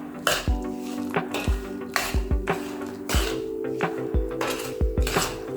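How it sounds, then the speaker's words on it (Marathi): A spoon stirs sugar syrup into roasted semolina in a metal pan for rava ladoo. Close, loud scrapes and clanks repeat in a rhythmic pattern, roughly twice per second. "हा पाक आता आपल्याला थोडा थोडा याच्यात मिक्स करायचा आहे"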